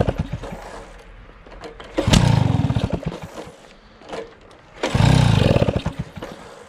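A Peugeot 103 moped engine runs unevenly and keeps cutting out: two loud rough bursts of revving that drop away, separated by quieter sputtering idle, recorded close.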